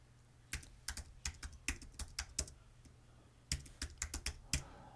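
Keys clatter on a computer keyboard in two quick bursts of close, crisp taps as a name is typed, separated by a short pause, with no talking.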